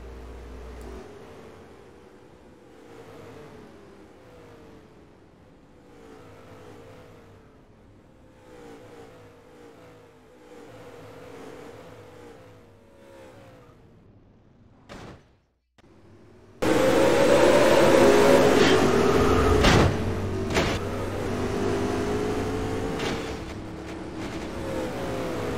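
NASCAR Racing 4 race cars with engines droning and revving at a moderate level for most of the stretch, then a sudden much louder, harsher roar of cars near the finish line.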